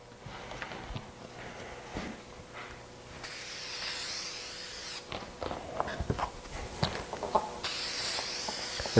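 Fine mist sprays in several bursts of airy hiss onto Solartex covering, each spray lasting a second or two, separated by quieter stretches with small handling taps.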